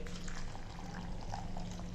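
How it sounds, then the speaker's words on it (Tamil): Water being poured into 100 grams of rolled oats in a bowl, a close, steady splashing pour lasting a couple of seconds with no speech over it. "இப்போ இதில் தண்ணி ஊற்றி"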